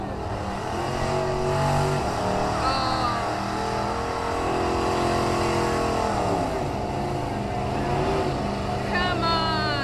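1987 Chevy Silverado truck revving hard during a truck pull at Sublimity, a loud sustained engine roar with rising and falling pitch as it strains down the track, an announcer talking over it.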